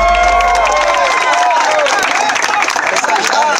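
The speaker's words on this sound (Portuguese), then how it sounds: "Uma salva de palmas aí" A live crowd at a funk show claps and cheers loudly, with whistles and shouts layered over dense, continuous applause.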